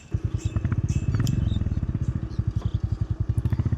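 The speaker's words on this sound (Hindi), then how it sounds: "जल्दी से बाइक लेकर के चलते हैं।" Motorbike engine in the GTA V video game, a loud, close, rapid rhythmic thumping idle-to-rev putter with steady pulsing beats throughout and no talk over it.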